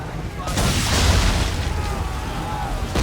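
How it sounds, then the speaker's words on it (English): Swivel gun blasts striking an enemy ship in Assassin's Creed 3, heavy booming impacts that roll into a sustained rumble of naval combat, with a voice speaking over the noise. "Use swivel guns to destroy the ship."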